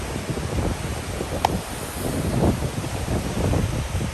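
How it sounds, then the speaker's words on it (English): Strong wind buffets the microphone on a seashore, a continuous rough rumbling roar with surf blended beneath it and one brief sharp tick partway through. "I hope the wind is not too much and you can hear me okay."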